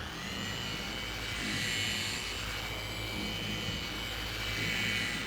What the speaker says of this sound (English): So let's go ahead and start polishing again.